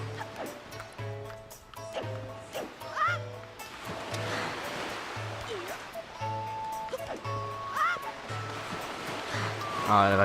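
Water in the video game Zelda Wind Waker: a continuous wash of surf-like rushing under game music with repeating tones, steady and moderately loud throughout.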